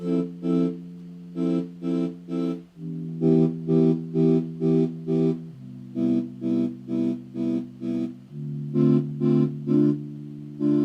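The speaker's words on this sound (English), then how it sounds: "So that sound is an organ from Omnisphere," An Omnisphere organ chopped by a gate effect into rhythmic, stuttering pulses, its sustained chords switched on and off in quick repeated bursts as the chord shifts every couple of seconds.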